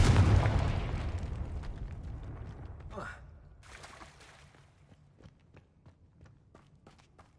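A Confringo fire spell blasts with a loud explosive burst in the video game Hogwarts Legacy, its rumbling boom decaying over a few seconds into quieter scattered pops and footsteps.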